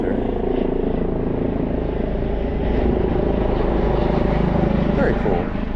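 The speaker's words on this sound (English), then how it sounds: "helicopter." A helicopter flies overhead during a walk around Huntington and the riverfront, a steady loud rotor and engine rumble that holds throughout with faint background noise.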